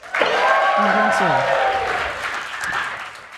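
A live show audience in Boise applauds steadily, the clapping holding strong before gradually thinning out, with a voice and some tonal sounds carrying over it.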